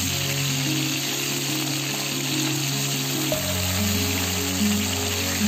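Tilapia fish frying in hot oil in a home kitchen, a steady loud hiss and crackle running the whole time with a low hum underneath.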